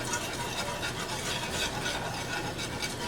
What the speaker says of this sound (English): adjust the temperature until you get a really good simmer all the way across the top like this